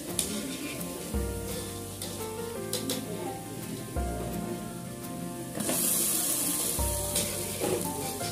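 Pakoras frying in hot oil for kadhi pakora, a steady close crackling sizzle that runs throughout, briefly brightening and intensifying toward the end.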